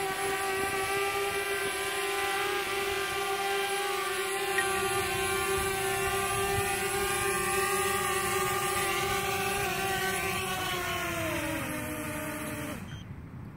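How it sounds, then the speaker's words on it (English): A remote control aircraft's motor runs with a continuous, steady droning whine that holds its pitch and then slides lower near the end as it winds down. No voices are present. "we're going to turn off the aircraft now"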